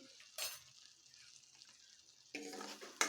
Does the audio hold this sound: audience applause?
no